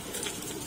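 A brief pigeon coo, soft and close, set against a faint hiss of background noise.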